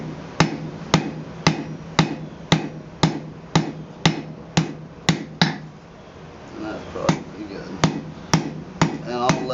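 A hammer forges blacksmith tongs, striking in a loud, steady rhythm of about fifteen sharp metallic blows with a short pause midway.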